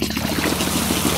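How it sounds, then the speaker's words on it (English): A small brook trickles and burbles steadily, close and fairly loud, a continuous wash of splashing water with no voices. "here's the little trickly brook"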